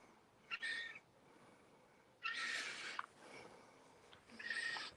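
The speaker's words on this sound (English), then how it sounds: "My wee seagull." Three bursts of a gull's calls ring out over an evening sky, each lasting roughly half a second to a second with gaps between them, moderately loud against a quiet outdoor background.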